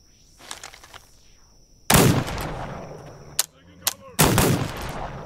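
Gunfire from a gun in the video game This Land is My Land: two loud, sharp shots about two seconds apart, each with a long ringing tail, plus fainter sharp cracks between them and quieter rustling before the first shot.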